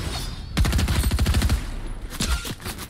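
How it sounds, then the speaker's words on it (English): Gunfire in the Fortnite video game, a rapid fusillade of sharp repeated shots for about a second, followed by a few scattered bursts, fairly close and loud. "I'm getting shot from behind, it's a whole team."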